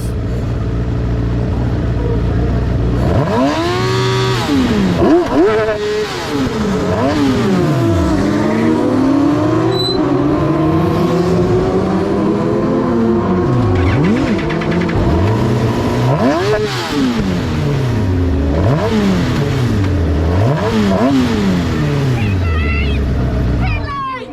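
Loud Formula 1000 race car engines roar and rev as the field accelerates at a race start at Oulton Park, with sweeping pitch rises and drops as cars shift gears and pass close by.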